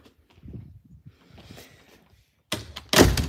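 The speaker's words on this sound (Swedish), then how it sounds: "Vi stänger dörren." A door at a school is pushed shut with a loud thud and a rattling slam, after soft footsteps and faint shuffling sounds.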